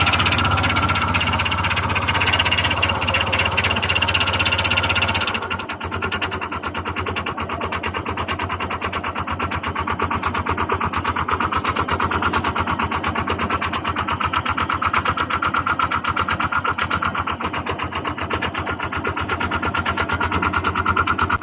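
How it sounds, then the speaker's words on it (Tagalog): A Honda Click 125 scooter engine with a worn connecting rod runs steadily at idle with a rapid, uneven knocking rattle throughout, loud and close, its tone shifting slightly after a few seconds. "pakinggan nyo kung anong tunog meron ang kanyang makina"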